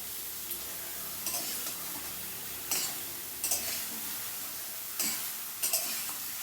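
Ridge gourd sautés with spices in a pan. A constant sizzle runs throughout, and a spatula scrapes and stirs in repeated bursts, loud and close, with no voices.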